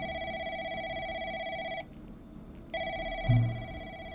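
A telephone rings in an office with a steady electronic warble that stops midway and then resumes, with a brief thump near the end and no talking.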